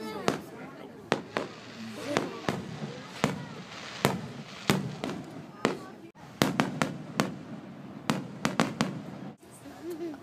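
Fourth of July fireworks burst in a rapid, irregular string of sharp, loud cracks and booms over about ten seconds, some in quick clusters, with a crowd murmuring and voices underneath.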